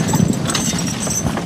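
Belgian and Percheron draft horses working at logging: close, loud clip-clop of heavy hooves in a quick, uneven rhythm over a steady background rumble.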